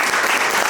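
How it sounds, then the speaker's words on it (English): A short burst of dense clapping from a large crowd at a political campaign visit at a private residence, steady and loud throughout. "A good and big round of applause on that."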